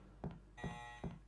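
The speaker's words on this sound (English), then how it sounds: "Shut up with that fucking alarm." A repeating alarm tone sounds in Resident Evil Code Veronica X, with three short electronic pulses and a sustained buzzing ring between them, fairly faint and with no talk over it.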